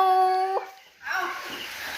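A dog lets out a brief, close, tonal howl that breaks off, followed by a person talking.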